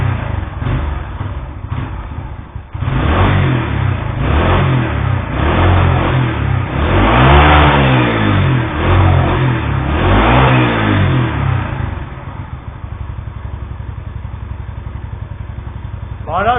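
A 1987 Yamaha SR 125 single-cylinder motorcycle revs up from idle with uneven, stumbling misfires, the engine loud and close, surging for several seconds before dropping back to a rough, lumpy idle.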